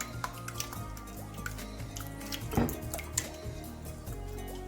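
Eggs being mixed into butterscotch sauce in a bowl for bread and butter pudding, soft wet squishing and light scraping with a few utensil clinks against the bowl, close and quiet.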